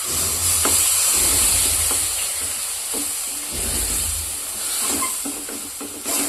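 Water poured into a hot pan of ground spice paste for an okra sambar sets off a strong, steady steam hiss that swells in louder bursts and fades slightly between them.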